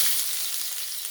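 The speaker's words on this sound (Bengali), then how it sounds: "দুটো বড় সাইজের কুচানো পেঁয়াজ আমি দিয়ে দিলাম। দিয়ে একটু ভেজে নেব।" Two large chopped onions hit a little hot oil in a kadai, giving a bright, continuous close sizzle with no talking.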